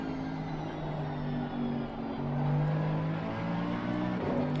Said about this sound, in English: I absolutely love the noise out of this car